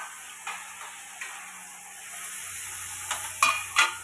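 Dal added to onions frying in a pan at home, a low, steady sizzle with a few sharp clinks and scrapes of a spoon against the pan near the end, no voices.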